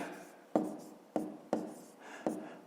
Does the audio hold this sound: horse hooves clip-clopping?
no